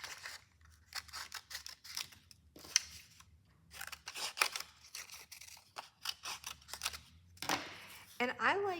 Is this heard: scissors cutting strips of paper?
yes